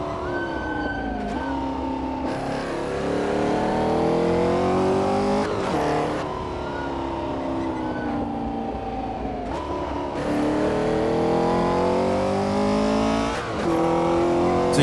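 A 1964 Porsche 904/8 race car on the 72 km Targa Florio road course, its flat-eight engine loud and close as it climbs through the revs, drops on each upshift and surges again, a steady howl under hard driving.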